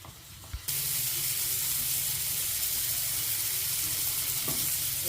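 Tomatoes dropped into a hot pan over sautéed onions for a chutney, sizzling steadily and loudly after a brief quieter start, a continuous close frying hiss with faint clatter.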